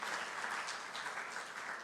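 A church congregation claps as an offering of praise, a quiet, steady patter of many hands lasting a couple of seconds.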